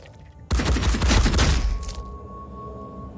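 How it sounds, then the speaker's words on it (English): Return gunfire in the turn-based game Phoenix Point, a sudden loud burst of rapid shots lasting about a second and a half, then a fading rumble and a brief extra crackle. "Okay, bit of return fire."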